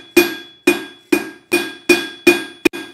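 A blacksmith's hammer strikes a hot steel bar being forged into a ladle: seven sharp, ringing metallic blows at a steady, roughly half-second rhythm, close and loud, the last two coming in quick succession.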